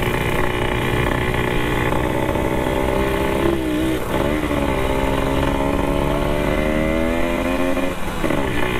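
A Vespa scooter engine runs loud and close on a charity group ride, a steady buzzing drone with slight rises and dips in pitch and no talking.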